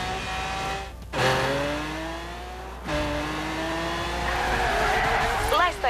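A race car in Forza Horizon 3 roars and accelerates with rising engine pitch, shifting gears twice, then tires squeal and skid near the end, loud and close.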